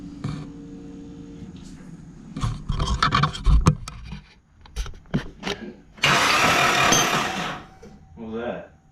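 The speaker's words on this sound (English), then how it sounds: "What was that? The ratchet." A ratchet clicks in a workshop in a few short, uneven bursts, followed by a loud broadband rush of mechanical noise and faint voices nearby.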